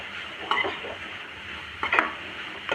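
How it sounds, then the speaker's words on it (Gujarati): Grated carrots sauté in ghee in a pan, giving a soft steady sizzle punctuated by three quick scraping stirs of a spoon against the pan, close by and with no talking. "આપણે એને 5 મિનિટ માટે ગાજરને ઘીમાં જ સાંતળી લેશું"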